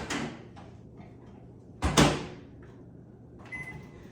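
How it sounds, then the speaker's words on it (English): A microwave oven door opens and clunks shut as a plain, unseasoned chicken breast goes into a steamer; one loud close thump follows an earlier softer handling noise, then a short electronic beep near the end. "And I'm gonna throw this into the microwave."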